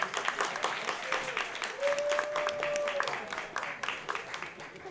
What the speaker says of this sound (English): one more round of applause for Carol Tandava and Whimsical Hips.